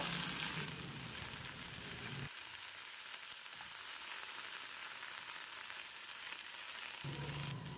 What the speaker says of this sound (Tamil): இப்போ அதே பேனில் ரெண்டு டீஸ்பூன் அளவுக்கு எண்ணெய் விட்டுக்கலாம் ஒரு கைப்பிடி அளவுக்கு ஒரு கப் அளவுக்கு சின்ன வெங்காயம் உரிச்சு எடுத்து வச்சுருக்கேன் அதை முதல்ல சேர்த்துக்கணும்